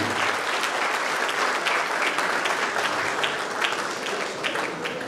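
A crowd applauds to honour a visiting governor at a public ceremony, loud sustained clapping from many people that stays dense and even throughout, with no talk.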